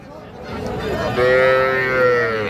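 A single loud, close, drawn-out moo rises from heifer calves at a livestock market, over a low murmur of people in the background.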